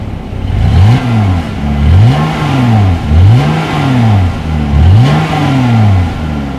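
A 2020 Jeep Gladiator Overland exhaust revving repeatedly, four rising-and-falling blips in a steady rhythm, loud and close, with a rumbling idle between revs.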